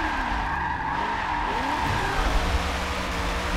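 Tire squeal from a car drifting in Forza Motorsport 7, played on a Logitech G920 wheel, with a steady engine drone and screeching rubber held across the whole run at fairly even loudness.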